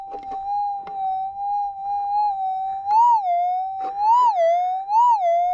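A steady metal detector tone hums continuously, rising into brief warbling bumps several times as the X-coil passes over a gold nugget; no voices.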